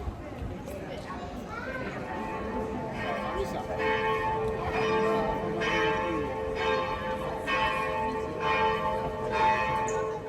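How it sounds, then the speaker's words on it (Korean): Church bells ring out from the Cathedral of Saint Domnius in Split, Croatia, striking steadily and repeatedly over a busy open-air crowd murmur with footsteps and distant voices. "도미니우스 대성당의 종소리를 뒤로하고 남문 쪽에 위치한 황제의 숙소를 찾았습니다."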